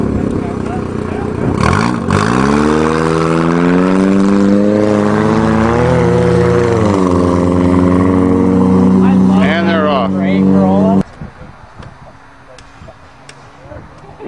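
Two Toyota Corollas race across a wheat field, one with a three-speed automatic, their engines revving and straining loudly with rising and falling pitch until the roar cuts off abruptly near the end, leaving quieter rumbling.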